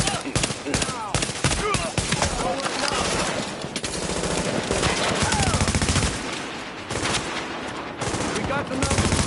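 Dense automatic gunfire rattles loudly and almost continuously in the shooter game Tom Clancy's The Division, with overlapping bursts and brief shouted voices in the mix.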